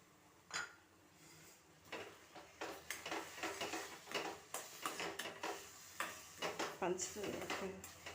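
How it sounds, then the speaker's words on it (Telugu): Sugar is added to a pan in a home kitchen and stirred, giving faint scraping and clinking strokes in an irregular rhythm while someone talks throughout. "ఇప్పుడు పంచదార వేసేస్తున్నాను"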